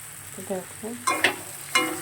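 Soybeans being sautéed in a pan give a soft sizzle with a few sharp scraping stirs of a spoon against the pan. The sound is quiet and close, and there is no talk.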